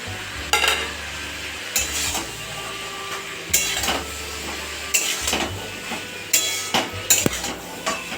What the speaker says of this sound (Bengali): এইবার আমি ফুলকপি, আলু আর মূলো ভাজাটা দিয়ে দিলাম।